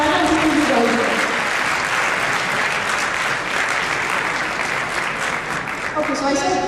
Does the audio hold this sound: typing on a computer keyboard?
no